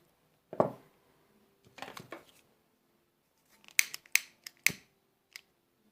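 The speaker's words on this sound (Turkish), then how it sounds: "Hemen burada biz ipimizi koparalım." Scissors snip through crochet thread in a few sharp, close cuts, a single snip first, then a short pair, then a quick run of crisp clicks near the end, with quiet pauses between.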